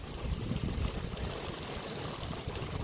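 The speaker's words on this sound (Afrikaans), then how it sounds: "Maar die water loop nou al omtrent vir 'n kwessie van 5 minute." Irrigation water running along furrows in a dry planting field, a steady, close, broadband rushing and gurgling flow that stays even throughout, with no voices over it.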